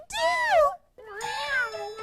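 A cat stuck up a tree meows twice, close and loud, the first call a falling whine and the second a longer, rising-then-falling cry after a brief pause.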